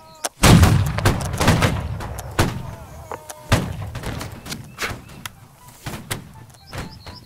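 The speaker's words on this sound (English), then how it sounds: "Nice volleys, gents. Nice volleys." Musket volley fire in a video game: a loud ragged crash of many shots at once, followed by scattered sharp single gunshots and thumps, with voices calling out amid the firing.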